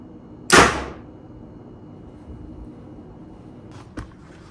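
A bare-shaft arrow shot through tuning paper: one sharp, close whoosh and snap of the release and flight, then quiet with a faint thud and a small tick afterward.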